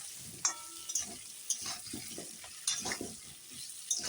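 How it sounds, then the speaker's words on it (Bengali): Potatoes fry in a pan over high heat while a chicken dish is prepared, giving a quiet sizzle under repeated scraping and knocking of a spatula against the pan. "আলুটা ভালো করে ভাজা হয়ে যায়"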